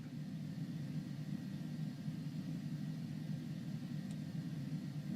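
Steady, low humming rumble of the APU generator running on a Cessna Longitude in Microsoft Flight Simulator 2020, a constant droning tone heard fairly quietly and alone, with no voices.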